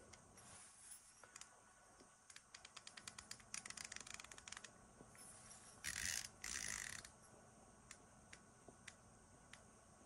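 Vector Paragon 6-30x56 riflescope turret being adjusted, a quick series of crisp, distinct mechanical clicks in rapid succession, close and quiet, followed by a couple of short rubbing scrapes.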